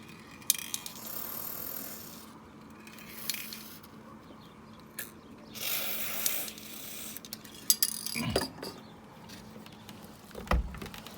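A lubricated car power window running in its door: mechanical ratcheting and grinding with a few sharp clicks and thumps, plus a brief spray-like hiss, fairly close and without talking.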